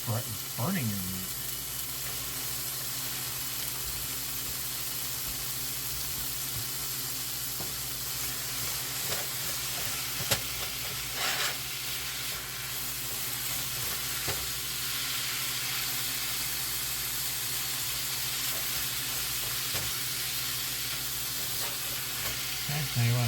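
Meat and vegetables sizzle steadily as they brown in a pan with garlic, a constant close frying hiss with occasional utensil scrapes and clinks, no talking.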